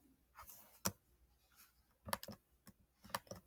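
Keystrokes on a computer keyboard as a login name is entered, heard as a few faint, sparse clicks in small bursts separated by quiet pauses, with no talking.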